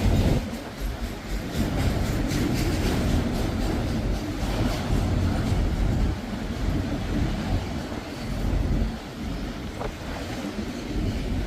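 A CSX freight train with its leading locomotive rolls past close by, a loud, steady rumble with rail clatter and wind noise holding for the whole stretch, easing slightly toward the end.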